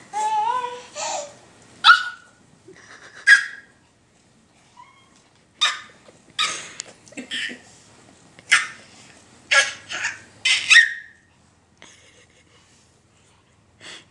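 A baby girl makes short growling, puppy-like vocal bursts, some rising into squeals, in scattered clusters with silent gaps between, close and fairly loud in a quiet room.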